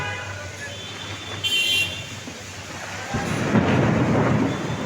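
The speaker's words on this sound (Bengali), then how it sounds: "অজর ধারায় বৃষ্টি" Torrential rain pouring over a city street in Dhaka, a steady dense hiss with rolling thunder rumbling through it, the downpour growing louder and heavier toward the end.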